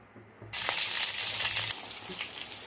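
Chana dal, urad dal, mustard seeds and cumin hit hot oil with a sudden loud sizzle that keeps crackling steadily, easing slightly toward the end, with no talking.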